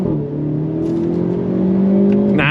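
A 2024 Hyundai Elantra N sport sedan accelerating hard on throttle: a loud, close engine note climbs steadily in a strong, smooth drone, with a quick change in tone at the very end as it shifts.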